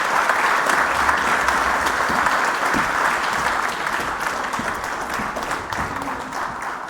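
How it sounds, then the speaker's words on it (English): Steady, full applause from a conference audience at a Nordic army summit fills the hall for several seconds, even and continuous, slowly easing off toward the close. "please give them a warm applause"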